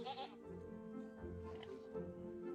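Sheep bleat in a wavering, drawn-out chorus on a farm, a few overlapping voices rising and falling at moderate distance, with a brief brighter cry at the start.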